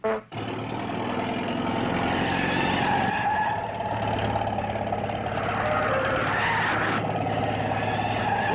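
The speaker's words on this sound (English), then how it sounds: "Whoever's driving that truck's mighty shy on brains." Old truck skidding on a country road, then driving up with a sustained engine roar and tyre noise, loud and continuous after a sharp start.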